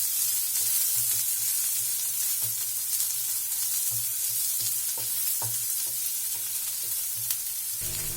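Sliced onions sauté in a pan with cumin, giving a steady bright sizzle with repeated scraping stirs throughout, close and even in level, with no talking.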